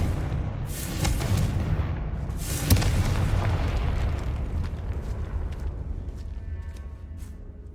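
Confringo fire spell explosion in Hogwarts Legacy, a deep booming blast with a sharp burst near the middle, followed by a rumbling fiery decay that slowly fades.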